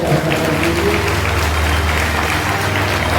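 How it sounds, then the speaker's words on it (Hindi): Loud, steady applause fills a devotional satsang gathering, a dense wash of clapping from a large audience that holds at an even level throughout. "एक बार सबके लिए जोरदार ताली बजाकर"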